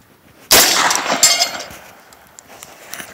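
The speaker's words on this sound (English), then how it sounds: "final test, 15 yards, 1200 foot per second ammo," A shotgun with a cylinder bore choke fires 1200 feet per second ammunition at a steel plate rack from 15 yards: one sharp, loud blast with a metallic clang, then a ringing tail that fades over a few seconds.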